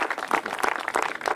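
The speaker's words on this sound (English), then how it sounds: "how about we give her another round of applause for her work" Audience applause for a state senator at a conference, a short burst of dense clapping from a crowd, steady and moderately loud with no voices over it.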